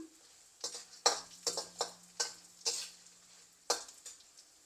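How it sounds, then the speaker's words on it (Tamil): Chana dal and three dried red chillies fry in oil for a vegetable sooji upma, with a faint sizzle beneath sharp, close spatula clatters against the pan that come in an uneven series of about eight strokes. "கடலைப்பருப்பும் ஒரு மேசக்கரண்டி ஒரு மூன்று காஞ்ச மிளகாய் இதெல்லாம் பொரியட்டும்"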